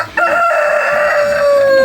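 A single loud, close rooster crow rings out, long and drawn-out with a falling tail, no talking.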